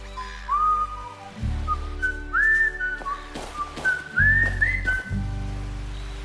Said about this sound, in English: I love the whistling, Jamal, but it always gets stuck in my head.